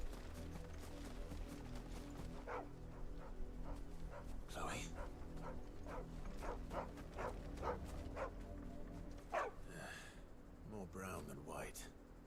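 A puppy in Final Fantasy XVI barks in short yips with a few whimpers, scattered through a busy game soundscape of music and ambient noise, with a voice talking over parts of it.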